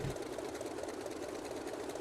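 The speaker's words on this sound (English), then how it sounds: "The engine note sounded very good for a second there." The radial engine of a Grumman F3F-2 biplane in the MSFS 2020 flight simulator drones as a steady, dense, even rumble that holds at an unchanging level throughout, close and without any talking.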